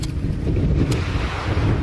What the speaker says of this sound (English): Listen how windy it is.